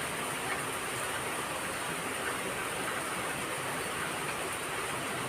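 Heavy monsoon rain pours down outdoors beside a row of parked vehicles, a dense, steady hiss with no break throughout and no voices.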